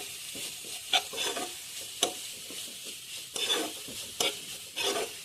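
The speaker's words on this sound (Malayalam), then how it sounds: "നമുക്ക് ആവശ്യത്തിന് വേണ്ട ഉപ്പും ചേർത്ത് ഒന്ന് ഇളക്കി കൊടുക്കാം" Cabbage thoran stirred in a pan with salt, giving repeated scraping strokes of a spatula over a light sizzle, in rhythmic bursts with a few sharp clacks against the pan.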